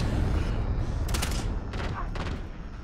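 Gunfire in Call of Duty Modern Warfare 2019 crackles in a few sharp bursts over a dense, loud background of game noise, with no clear talk.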